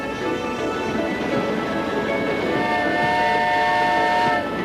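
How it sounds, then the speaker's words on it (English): A long train hauled by a diesel-electric locomotive rolls past in a steady rumble, with sustained horn-like tones rising over the rail noise toward the end. "It's being pulled by a diesel-electric locomotive."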